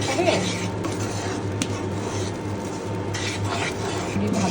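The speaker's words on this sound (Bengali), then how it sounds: "আমি অল্প ঘি দিয়ে দিলাম, মানে ভেজে নিব" Almond semolina frying in a little ghee in a pan, a continuous soft sizzle with light stirring and scraping throughout, close and steady.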